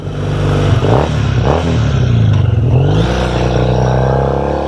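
A Triumph motorcycle, a 2005 T100 built into a 1965-style clone, idles with a rich twin-cylinder burble and is revved twice in quick blips, then settles back, loud and close with no talking.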